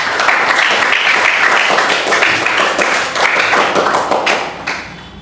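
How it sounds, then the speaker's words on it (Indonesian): Classmates in a school classroom applaud a fellow student, a dense, steady patter of many hands clapping loudly for about five seconds with a faint voice mixed in. "beri tepuk tangan untuk teman"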